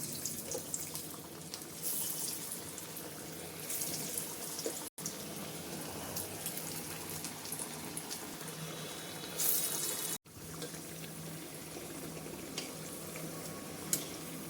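Chana dal vadas frying in a pan of hot oil, a steady broadband sizzle and bubbling that runs continuously on its own, with a couple of brief dropouts and small clinks along the way.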